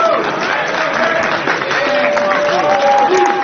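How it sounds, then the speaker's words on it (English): A wrestling crowd cheers and applauds for Michael Oku during an Undisputed British Cruiserweight Championship match, a steady dense roar of voices and clapping with a commentator talking over it. "The crowd rallying behind this great star from Great Britain."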